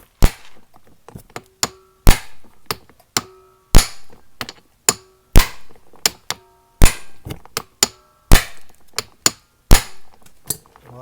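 Sharp metallic hammer blows strike a manual impact driver while loosening screws on a Toyota Camry wagon's coilover suspension, landing as a dozen or so loud, separate clangs in an uneven rhythm, close by, with no talk.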